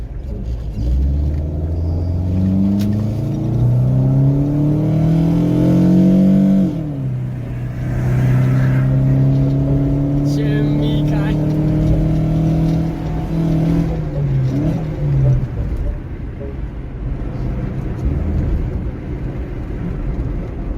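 A car sets off and keeps driving, its engine rumbling steadily and rising in pitch as it gains speed, with no talking over the continuous road noise.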